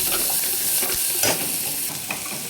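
Ginger and garlic sautéing in a pan with steady oil sizzle, broken by a few scraping stirs of a spoon, close and fairly loud with no talking.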